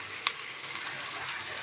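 Onions sizzle steadily in a frying pan, a continuous close hiss with one brief clink near the start.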